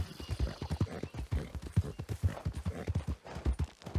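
Steady rhythmic clip-clop of a horse's hooves in Red Dead Redemption 2, continuous quick thuds on hard ground throughout, close and clear with faint background ambience.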